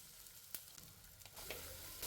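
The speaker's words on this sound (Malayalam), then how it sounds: "ഞാൻ അതിലേക്ക് വെളിച്ചെണ്ണ ഒഴിക്കാം ഇനി അതിലേക്ക് ഒരു സ്പൂൺ ഇഞ്ചി അരിഞ്ഞതും രണ്ട് പച്ചമുളക് അരിഞ്ഞതും ഒരു സവാള അരിഞ്ഞതും കുറച്ച് കറിവേപ്പിലയും കൂടി ഇടാം" Ginger, green chili, onion and curry leaves sauté in coconut oil, making a faint, low sizzle with a few soft clicks of stirring, swelling slightly near the end.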